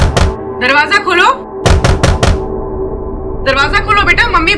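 Someone knocks on a door in a TV crime drama, with a few sharp, loud knocks in quick bursts mixed in with people talking.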